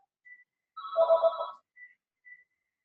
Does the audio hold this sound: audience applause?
no